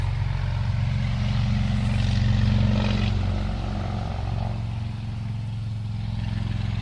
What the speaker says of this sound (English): I'm going to pause while the chopper goes by.